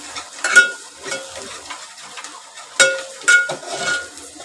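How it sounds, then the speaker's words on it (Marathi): Chopped onion frying in a pan for egg curry, stirred with a utensil that scrapes and clinks against the pan in several bursts over a steady sizzle. No one speaks. "आता कांदा चांगला भाजून घ्यायचा, लावून झालं पाहिजे, करपवायचा नाही."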